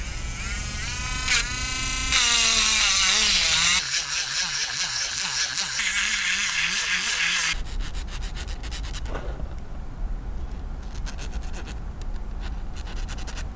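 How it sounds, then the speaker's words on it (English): A grinder grinding down the inside of a Shimano 203 bike rotor part, close and steady with whining pitch shifts and harsh scraping that changes texture partway through. "I have to grind down the inside though, so to make them a little bigger."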